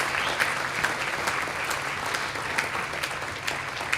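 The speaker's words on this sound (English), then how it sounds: "can we give our inductees a round of applause" An audience at a Hall of Fame induction ceremony claps for the inductees, steady sustained applause filling the room with no voices on top.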